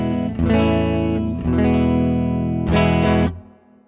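Electric guitar played through a Heather Brown Electronicals Clean Break Boost pedal on its bright setting: three loud, sustained strummed chords ring out, the last fading away at the end.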